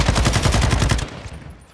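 Rapid automatic gunfire in the video game Call of Duty Modern Warfare 2, a loud close burst of about a dozen evenly spaced shots that stops after a second.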